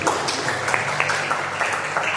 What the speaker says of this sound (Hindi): तो पुनः एक बार जोरदार तालियां इन सभी अध्यापकों के